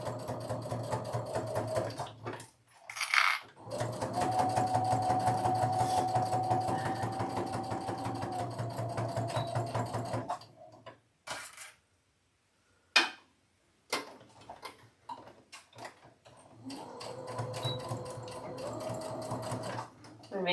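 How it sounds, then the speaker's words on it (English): Sewing machine chain piecing a quilt block, a steady rapid mechanical stitching hum in several bursts separated by short pauses and brief handling noises. "I'm just going to start sewing this one with it. It's called chain piecing."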